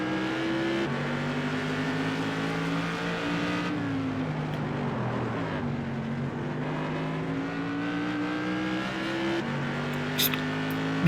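A race car engine heard onboard the 38 car during a modified-series video game race at South Boston, revving steadily, dipping through a corner and climbing again, loud and continuous.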